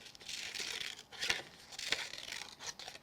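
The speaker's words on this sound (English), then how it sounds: "turning your scissors until you get that little scallop look" Scissors snipping scalloped edges into paper for a handmade beach shaker card, a soft close papery crinkle and rustle with a few sharper cuts, quiet and steady without talk.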